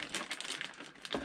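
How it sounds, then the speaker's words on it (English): A plastic bag crinkles and rustles as it is opened during the unboxing of a 1/10 scale Porsche 956 model car kit, giving a quiet, close run of crackles and crinkles over about a second. "And to open, I used to save the plastic bag"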